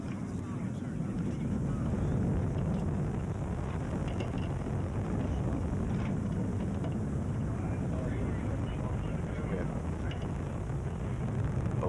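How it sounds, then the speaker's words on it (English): Titan III rocket carrying Mars Observer climbing after liftoff on its solid boosters, a distant, steady broadband rumble and crackle that holds constant throughout, heard faintly with no voices over it. "liftoff of the Titan III rocket with the Mars Observer and America's return to the Red Planet"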